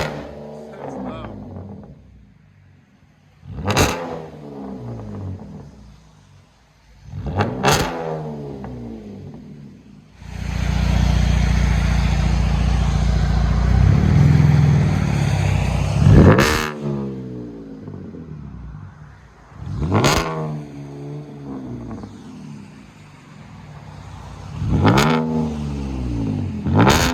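A straight-piped 2010 Cadillac CTS 3.0L V6 barks out a series of loud, sharp revs, with one long sustained rev in the middle, while people talk between the blips.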